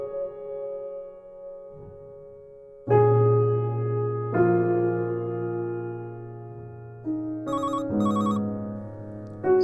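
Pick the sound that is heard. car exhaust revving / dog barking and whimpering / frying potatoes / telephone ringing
telephone ringing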